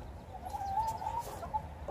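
Backyard chickens clucking close by in a short run of soft, warbling calls over light outdoor background noise.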